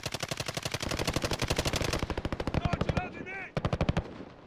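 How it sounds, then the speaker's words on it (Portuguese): Rapid automatic gunfire in Call of Duty: Warzone, long sustained bursts of closely spaced shots with short pauses, loud and near, with brief talk in between. "Eu tô ouvindo tiro pra floresta"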